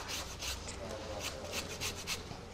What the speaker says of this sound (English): And then I'm going to grate in some lemon rind.